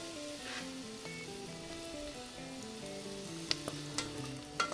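Caramel for a homemade cocoa spread keeps sizzling in a hot double-bottomed saucepan, a steady close crackling hiss with a few sharper pops near the end, no voices.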